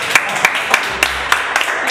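Audience clapping after a Hindi poetry recitation, with six or seven evenly spaced claps in a steady rhythm. They sound close and fairly loud, with no voices.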